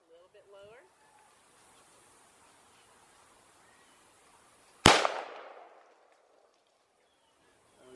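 A single loud, close gunshot cracks out during outdoor target shooting and rings away over about a second, with a brief faint voice near the start and quiet ambience otherwise.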